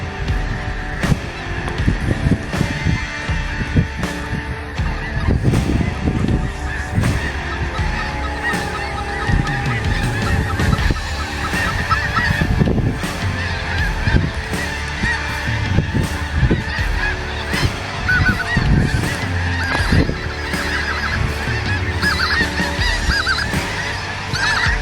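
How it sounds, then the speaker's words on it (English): A large flock of specklebelly geese honks continuously as the birds land among decoys during a rainy late-season hunt, a loud, dense chorus of overlapping calls that never lets up. "every single goose in the sky went and lighted in our decoys"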